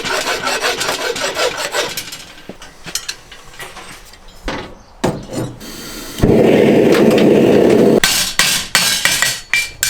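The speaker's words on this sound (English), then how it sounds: "Just finish that off with a file" A steel horseshoe is worked with a file in close, loud bursts of rasping strokes, broken by gaps and sharp knocks, then a long, steady grinding rasp.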